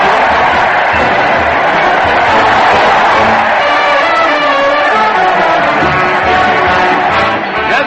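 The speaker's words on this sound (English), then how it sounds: "listen to that crowd cheer Fred Allen as he heads his weekly parade to the old Town Hall" A studio audience cheers, whoops and claps loudly and continuously for Fred Allen as he leads his weekly parade to the old Town Hall on a 1936 radio broadcast, a dense roar of voices holding steady throughout.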